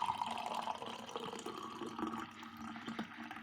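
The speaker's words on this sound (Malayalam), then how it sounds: "ഗ്ലാസ്സിലേക്ക് നല്ല പതപ്പിച്ചങ്ങോട്ട് ഒഴിക്കാം" Frothy buttermilk (sambharam) being poured into a glass, a steady close liquid pour with a bubbling, splashing texture that runs continuously without speech.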